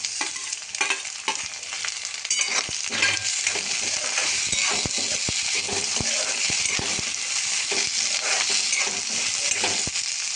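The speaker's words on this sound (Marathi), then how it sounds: "थोडा कांदा चांगला माझा भाजला. आता त्यात टमाटर टाकून घेते." Chopped onion and tomato fry in a pan for rava upma, a steady close sizzle running throughout with occasional clinks and stirring scrapes of a utensil against the pan.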